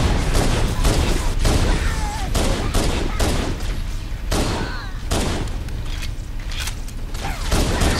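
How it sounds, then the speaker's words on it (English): Gunfire in the video game Halo: The Master Chief Collection, a rapid fusillade of repeated shots and booms going on steadily throughout with mechanical clatter in between. "Well, I can hear gunshots,"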